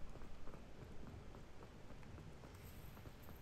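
Continuous rainfall in the Wizardly Hills video game, a soft, even hiss of falling drops that stays quiet and steady with no speech over it.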